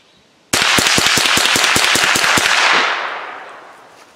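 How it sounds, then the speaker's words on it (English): Rapid string of .22 Long Rifle shots fired as fast as possible to empty a magazine, a loud close burst of sharp cracks that stops abruptly and leaves a fading outdoor echo. "So I guess now I'm just going to mag dump this thing."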